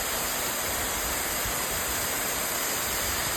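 A waterfall at night gives a steady, dense broadband rush of falling water, continuous and even throughout with no voices.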